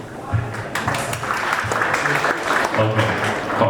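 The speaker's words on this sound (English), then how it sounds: "Let's give them an applause." An audience claps steadily and fairly loudly for a few seconds after a speaker's introduction at a tech conference session, with some voices mixed in.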